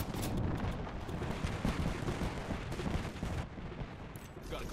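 Cluster bomb blasts in the Apex Legends video game go off as a dense, loud barrage of overlapping explosions and rapid gunfire, filling the whole stretch with hardly a pause.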